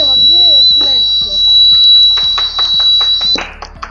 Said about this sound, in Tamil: அதுல இப்போ இது ஒரு அலாரம் மாதிரி யூஸ் ஆகுது